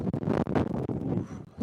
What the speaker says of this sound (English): It's windy today, ladies and gentlemen.